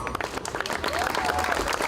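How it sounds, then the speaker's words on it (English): Crowd applause at a ward anti-violence march, a steady wash of many hands clapping at once, fairly loud and sustained, with a few voices mixed in. "I would like all of you to give yourselves a round of applause"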